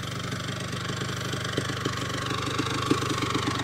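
A 1973 Penton KTM 250 Hare Scrambler two-stroke motorcycle engine running near closed throttle at slow speed with the clutch out, a steady close burbling idle with light irregular knocks and pops throughout.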